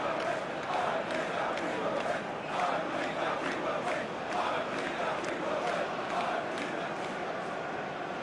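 A capacity stadium crowd at the USA vs Argentina Copa America 2024 final football match roars continuously, a dense, loud wall of cheering and chanting throughout.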